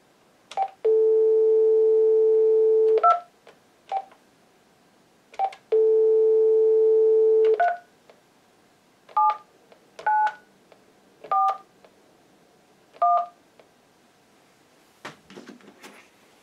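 Dial tone on a VoIP phone adapter line, heard in two long steady stretches, each followed by short bursts of keypad dialing beeps and then a run of separate DTMF digits. The tones are loud, close and clear, with no talking.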